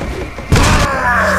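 A grenade in Resident Evil 4 goes off as one sudden loud boom about halfway through, followed by a brief rumbling tail over game sounds.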